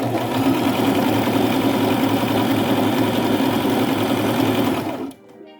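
A sewing machine stitches a fabric scrunchie in one continuous run of loud, close, rapid whirring and needle chatter, which stops abruptly near the end.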